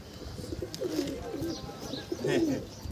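Soft, low pigeon coos repeat close by over a dull background hum, with no talking.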